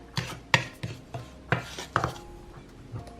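A utensil stirs dry spices in a bowl for a chicken sandwich coating, giving a series of about eight sharp, close scraping knocks at an uneven rhythm, with no talking.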